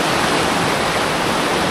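A river stream flows at night in a forest in East Java. Its loud, unbroken rushing wash of water fills the scene close by, with no talking.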